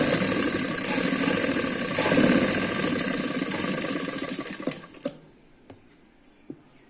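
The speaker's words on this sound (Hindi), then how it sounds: "इसके ऊपर एक सिलाई लगाएंगे।" A sewing machine runs steadily while stitching a seam on narrow ladies' palazzo pants, then stops around five seconds, leaving a few sharp clicks and handling knocks.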